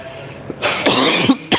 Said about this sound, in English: I'm sorry that I keep coughing